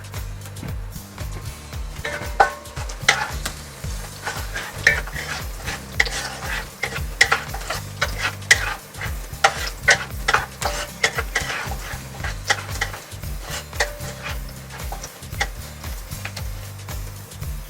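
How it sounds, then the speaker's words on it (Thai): Garlic hits hot oil for fried rice with a steady sizzle. A spatula clicks and scrapes against the pan over and over in a quick, busy rhythm, with a low hum of background music underneath. "เอา กระเทียมเนี่ยนะครับ ลงไปเจียวให้มันหอมๆก่อนนะ"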